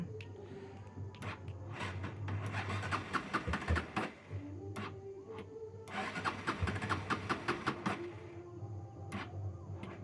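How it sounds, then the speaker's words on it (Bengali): Cold start attempt on a Bajaj Pulsar NS160 motorcycle: repeated cranking bursts with a low engine hum that catches unevenly, dies near the middle, then cranks again, heard close and fairly loud with no talk. "তো এবার আমি বাইকের করবো কোল্ড স্টার্ট।"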